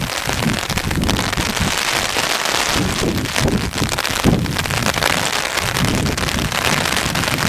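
A hailstorm pelts a golf course with a dense, crackling patter of stones striking the ground and surfaces. The sound is loud and constant, with scattered sharper impacts, and no talking.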